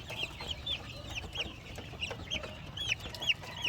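Young chicks in a coop give repeated soft clucks and high peeping calls, close and fairly quiet, over a low background rumble.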